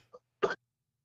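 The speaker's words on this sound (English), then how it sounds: "Oh, he coughing, y'all. He is coughing." A man coughs over a phone line: a faint short sound, then one sharper, louder cough, followed by silence.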